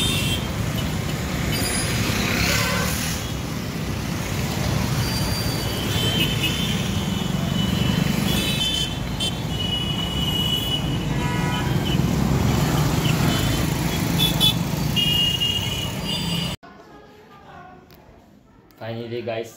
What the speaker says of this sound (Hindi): गाइस सब लोग देखो ट्रैफिक देख लो गाइस